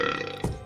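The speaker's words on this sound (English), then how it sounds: "Oh my gosh, I burp." A single loud, close burp sounds on its own in a short guttural rumble from a cartoon character.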